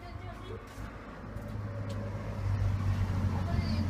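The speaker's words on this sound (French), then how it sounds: "Attendez, il y a une voiture." A car passes on a road outdoors, a low engine rumble swelling gradually louder toward the end, with faint voices in the background.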